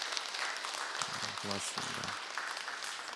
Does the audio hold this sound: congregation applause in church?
yes